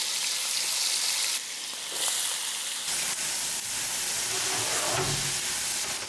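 Vegetables hit a hot pan of seared, broken-up ground beef and sizzle loudly, a dense frying hiss with steam that swells and shifts as they are stirred.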